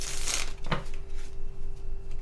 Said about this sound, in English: let me just shuffle your clarifiers and we'll get started.